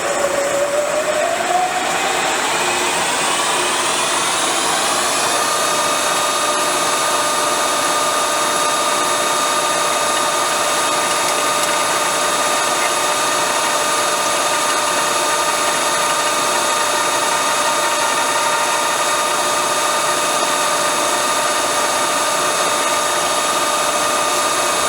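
A power drill bores a hole through a filled metal part during BSA B44 trials bike work, a loud sustained whine that rises in pitch over the first seconds, then holds steady and even throughout.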